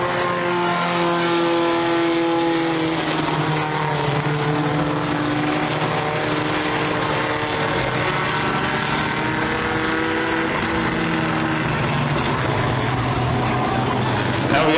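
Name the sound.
race cars circling Merrittville Speedway under caution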